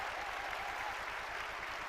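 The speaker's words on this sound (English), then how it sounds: "For that round of applause" An audience claps in a steady, dense wash of applause at a breakfast event, continuous throughout the short stretch without voices.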